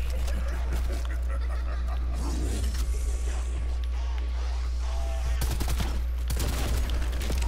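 Sustained gunfire in Call of Duty zombies mode, loud bursts and rapid volleys running nearly unbroken, mixed with game effects and an occasional voice underneath.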